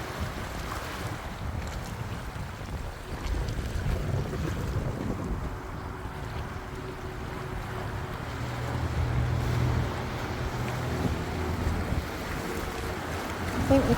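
Sea water surges and washes over the coastal rocks at Doctors Rocks, Wynyard, Tasmania, as the tide comes in: a continuous, fairly close rushing wash that swells a little louder toward the end, mixed with gusty wind noise on the microphone.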